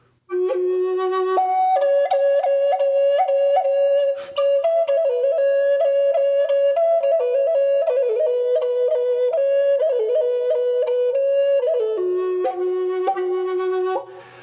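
A breathy wooden Native American flute plays a flowing minor pentatonic solo melody, sustained notes gliding between a handful of pitches with soft ornaments, clear and close.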